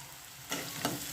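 Girmit ingredients sizzle in a pan while being stirred, a soft frying hiss broken by a few scraping bursts, close and brief with no talking.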